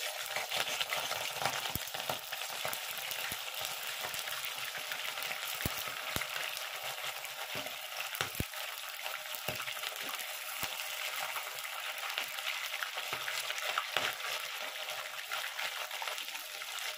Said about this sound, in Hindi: अब ये जो पीसेज हैं मछली की, ये हम इसमें थोड़ा थोड़ा सा फ्राई करेंगे